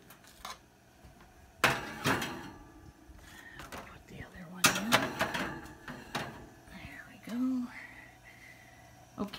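Metal baking pans of bread rolls clatter and clink as they go into an oven, in several sharp bursts amid quiet handling noises, with soft talk in between.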